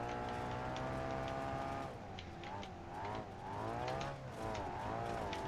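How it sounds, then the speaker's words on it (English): A race car in a video game spins its tires on a dirt track under held throttle, giving a steady, droning engine whine with rising and falling pitch sweeps, heard fairly faint. "Though I am holding the throttle because I need to get speed, all my tires are doing is spinning."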